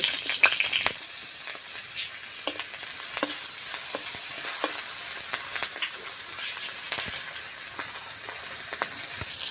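Green chilies frying in hot mustard oil in a wok give a constant close sizzle, crackling and popping throughout, with no one speaking.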